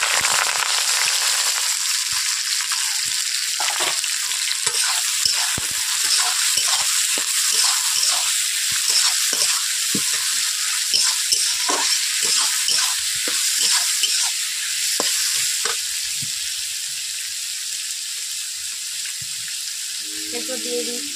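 Chopped onion and tomato fry for a Bengali-style chicken korma, stirred with a spatula. A loud, hissing sizzle runs throughout, with repeated close scraping strokes that thin out toward the end.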